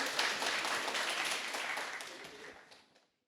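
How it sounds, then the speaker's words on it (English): Audience applause welcoming a presenter at a symposium: broad, even clapping from a sizable crowd, moderately loud at first, then tapering off and fading out over the final second. "Give him a round of applause as he makes his presentation."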